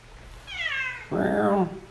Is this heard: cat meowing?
yes